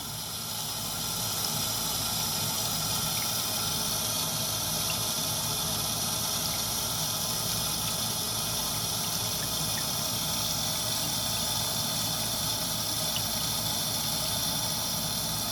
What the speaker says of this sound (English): run it under cold water to make it hard